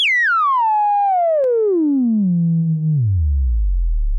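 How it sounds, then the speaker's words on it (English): A Korg Arp Odyssey reissue synthesizer producing a single loud filter zap, a bright buzzy tone sweeping steadily downward for about four seconds and ending in a deep low rumble. "it sounds more biting and it goes lower than the mini mode one does"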